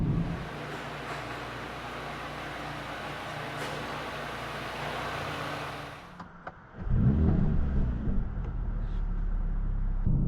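Engine hum and road noise from a 2024 Mercedes CLA 35 AMG facelift coupe driving at night, steady for several seconds, then a brief dip and a louder, deeper surge as the car accelerates, with no talking.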